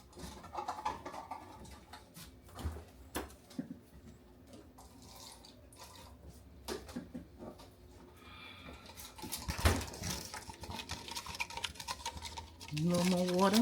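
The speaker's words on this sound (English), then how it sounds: "Stir it up. We want all our coffee." Iced coffee being stirred with added water over ice, a soft watery swirl and faint clinks that run under someone talking, ending in a louder pour or rush near the close.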